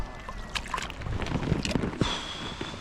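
Oars splash and knock in the water at an uneven pace as a small boat is rowed on a river, with wind buffeting the microphone and faint sloshing around the boat.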